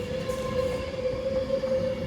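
A Class 390 electric train pulls out of Stoke-on-Trent bound for Manchester Piccadilly, a loud, close rolling rumble with a sustained steady whine from the traction motors, carrying on without pause and with no voices.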